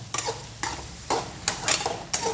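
Mixed vegetable bhaji with carrot, onion-garlic masala and chilli powder being stirred and sautéed in a pan, with a steady sizzle broken by repeated scraping strokes of a spoon roughly every half second.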